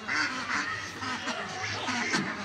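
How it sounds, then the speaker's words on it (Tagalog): Several ducks swimming at a petting zoo in Unaizah, Saudi Arabia quack repeatedly close by in a lively, overlapping chorus. "Tignan niyo po yung pato."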